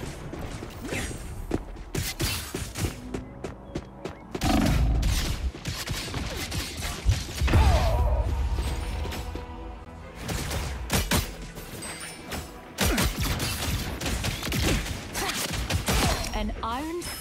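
Gunfire and battle effects in the video game Marvel Rivals, loud bursts of shots and heavy impacts layered with mechanical clanks and a game soundtrack, with voices mixed in at times.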